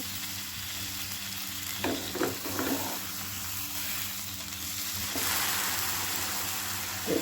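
Milk poured a little at a time over banana sandwich bread in a hot pan, setting off a continuous sizzle with a few brief gurgling bursts and a sharper surge of hissing partway through.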